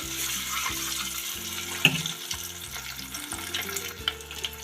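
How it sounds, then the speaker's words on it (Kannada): Eggs frying in a pan on low, simmering heat for an egg masala curry give off a soft, continuous sizzle, with occasional faint clinks and light stirring scrapes. "ಸ್ವಲ್ಪ 2 ನಿಮಿಷ ಫ್ರೈ ಆಗಬೇಕು"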